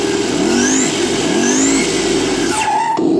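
A 1/10-scale brushed-motor RC car in Ghost trim whines as its motor revs in loud, rising sweeps, pitching up and dropping back several times before a short abrupt cut.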